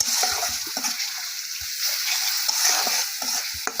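Spices frying in oil for a fish and potato curry, a continuous moderate sizzle with light knocks and scrapes of stirring scattered through it.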